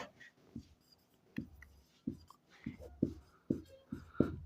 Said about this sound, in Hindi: अब लिखते हैं प्रश्न से।